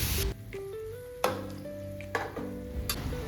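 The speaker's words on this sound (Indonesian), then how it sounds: "Ini kita masukin semua bahannya, lalu kita tumis-tumis dulu sebentar." Ingredients and enoki mushrooms sautéing in oil in a pan, with a steady soft sizzle and occasional stirring scrapes and clicks of utensil against pan, close by with no talking.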